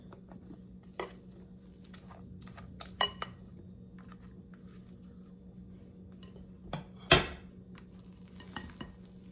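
Stiff egg whites being folded into a potato mixture for a bacon potato puff, quiet and close, with soft spoon scrapes and a few sharp clinks against the bowl, no talking.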